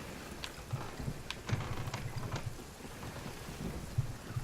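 Steady rain patters on a surface while low thunder rumbles beneath it, continuous and moderately loud; a storm at sea in the video game Sea of Thieves.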